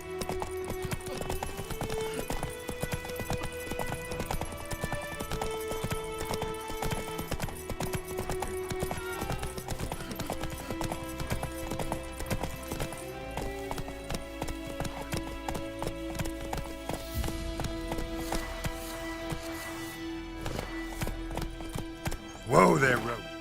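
Roach, the horse in The Witcher 3, clip-clops along in a steady rhythmic trot beneath music, with a voice speaking over the hoofbeats and a brief louder burst near the end.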